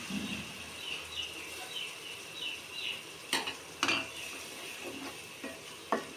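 Tomato and crushed garlic being stirred slowly in hot oil for a fish curry: a steady sizzle under soft scraping, with a few sharp clinks of a spoon against the pan.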